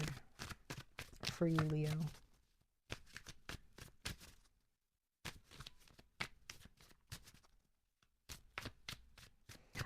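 Tarot cards are shuffled and drawn in quick papery bursts of riffles and flicks, with pauses between, while someone talks through most of it.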